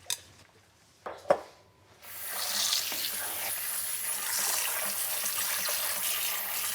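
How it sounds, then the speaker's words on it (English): A cold-water tap runs steadily into a kitchen sink to rinse salted food, after a couple of brief clinks and knocks. "So what I'm going to do now is rinse this and get the excess salt out in cold water."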